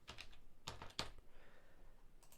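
Several short bursts of keystrokes on a computer keyboard while entering a line of Java code, clustered clicks with brief pauses between them, close and fairly quiet with no talking.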